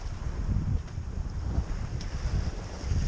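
Wind buffets the microphone aboard a Dufour 3800 sailboat off France in uneven low gusts, rising and falling throughout, with a faint watery wash underneath and no one speaking.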